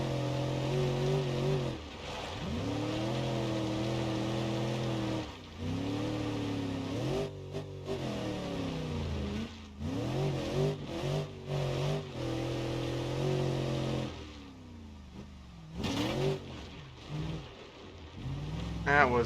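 A car engine in BeamNG.Drive laps a dirt track, droning steadily with rising and falling revs and a few brief drops, while someone talks over it almost throughout.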